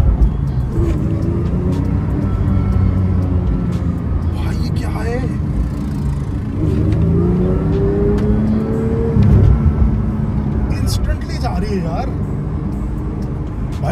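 A Porsche 911 GT3 rumbles on the road with a deep engine note that swells and eases with throttle, heard close and fairly loud beneath someone speaking throughout.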